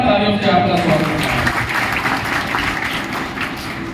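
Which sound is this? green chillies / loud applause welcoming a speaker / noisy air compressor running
loud applause welcoming a speaker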